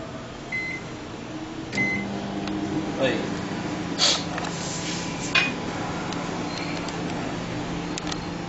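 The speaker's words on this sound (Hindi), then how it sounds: "तो हम इसमें रखते हैं इसको माइक्रोवेव ओवन में।" A microwave oven heating cheese malai boti on its upper grill setting gives a steady, close hum with occasional soft clicks and faint beeps, while voices are present at times.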